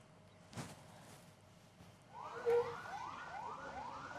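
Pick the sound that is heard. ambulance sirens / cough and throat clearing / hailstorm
ambulance sirens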